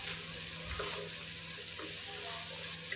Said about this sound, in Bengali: এখন ডাল এবং পেঁয়াজগুলো হালকা ভেজে নিব